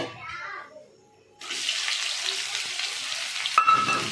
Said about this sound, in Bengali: মশলা ফোড়ন দিয়ে দিয়েছি, এর মধ্যে পেঁয়াজগুলো দিয়ে দেব